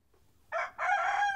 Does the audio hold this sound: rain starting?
no